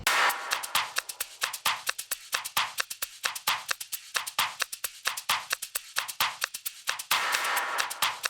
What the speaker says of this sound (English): Even more percussion on top,